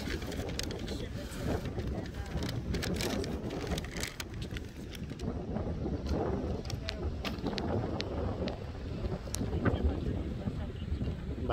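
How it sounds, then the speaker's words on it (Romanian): Gusty wind buffeting the microphone in a steady roar, with scattered sharp clicks and rustles throughout. "Bate vântul."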